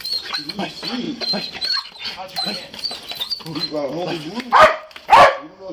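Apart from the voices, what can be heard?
police dog barking during search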